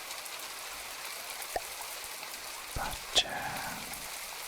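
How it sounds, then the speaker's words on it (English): Steady rain without thunder falls in the building game From the Depths, a soft continuous hiss with a few faint drips and knocks, and a quiet voice briefly speaks over it. "this constant weather has the rain without the lightnings"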